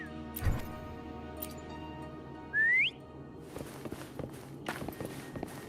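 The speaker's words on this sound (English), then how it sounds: "Try whistling." A short rising whistle sounds once amid soft ambience in the video game Wuthering Waves, followed by quick footsteps and light thuds.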